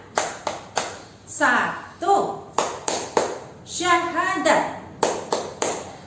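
Children's rhythmic Tepuk rukun Islam clapping game: sharp group claps in a steady pattern, alternating with children's chanted voices counting out the items in unison.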